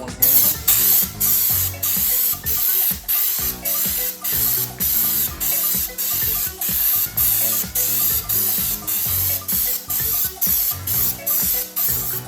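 Raptor bedliner sprayed from a compressor-fed spray gun at 40 to 60 PSI on an F650 truck bed, loud close hissing bursts repeating in a steady pulsing rhythm, with no voices.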